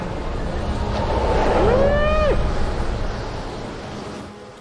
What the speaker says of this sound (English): Who doesn't like the window open on a cold, windy, rainy night?